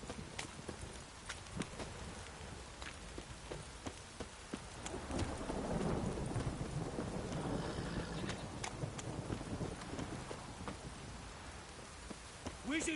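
Heavy rain pours steadily in Witcher 3: Wild Hunt, with a low thunder rumble swelling midway and sharp drops and clicks spattering throughout.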